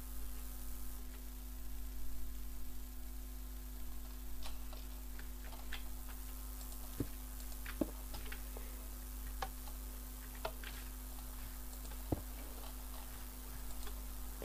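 Redstone clock in Minecraft clicking inside a smart house build, a few sharp, quiet ticks spaced irregularly over a steady low hum and static background.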